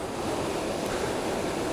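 Ocean waves on a long beach near a surf lifesaving club, a loud, continuous roar of surf mixed with wind rush, steady throughout with no talking.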